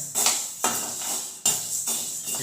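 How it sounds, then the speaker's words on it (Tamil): Black gram (urad dal) roasting in a pan gives off a hissing, rattling scrape, with several sharp knocks and scrapes of a utensil against the pan at irregular intervals. "இப்போ நல்லா வறுத்துக்கலாம்"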